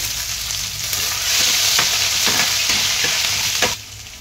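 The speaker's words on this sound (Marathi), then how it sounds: "तेल टाकूया. जिरा टाकायचा. हिंग टाकूया, बारीक चिरलेला कांदा टाकूया" Chopped onion, cumin and asafoetida fry in hot oil, making a loud, dense, continuous sizzle with a few stirring scrapes, easing slightly at the end.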